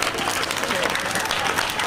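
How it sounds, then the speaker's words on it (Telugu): Children clapping their hands in a classroom, a dense, continuous burst of applause heard up close, with a voice speaking over it. "ఒకసారి క్లాప్స్ కొట్టుకోండి, చేతులు పైకెత్తి కొట్టుకోవాలి"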